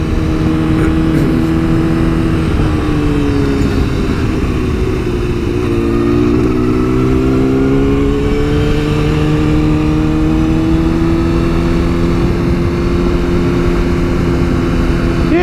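Motorcycle riding along a road, a loud continuous engine drone heard close from the bike, pitch dipping and rising gently with throttle changes, mixed with wind rush and no talk.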